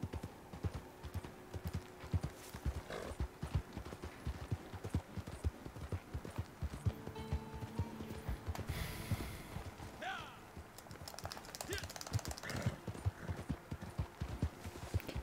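Horse hooves clip-clop steadily in a video game, a long run of rhythmic close hoof beats with a few snorts and faint breathing mixed in.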